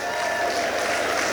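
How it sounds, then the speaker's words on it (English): An audience at a youth and women's conference claps in a brief, dense, continuous burst of steady applause. "I think every man here should clap for every woman here"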